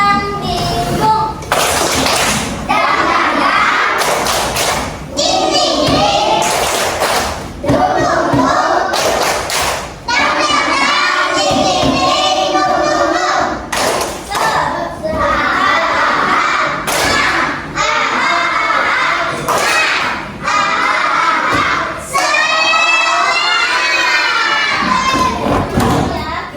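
Classroom of children loudly performing the 'tepuk semangat dan dingdung' clap chant, with rhythmic group claps and thumps alternating with sung, shouted phrases throughout.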